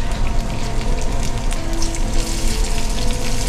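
Steady broadband sizzling and hissing from broth poured into a hot pan of pork and vegetable dumplings, continuous and fairly loud throughout with no talking.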